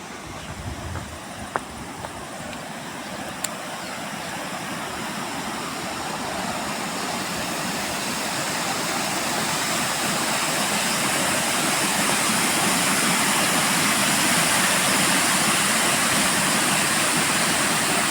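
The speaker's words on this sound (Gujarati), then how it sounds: "ગરતી નદી વોટરફોલ." Waterfall on the Mahi river: a steady, broadband roar of falling water that swells slightly louder over about eighteen seconds, continuous and alone with no voices.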